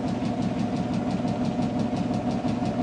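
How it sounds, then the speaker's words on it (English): Generator turned by a rotating prime mover at about 72 RPM, a continuous close mechanical hum with a steady low drone and regular rhythmic thumping, with no voices. "prime mover is rotating our magnetic field past the coiled wire, and our generator is producing 74, 75 volts right now"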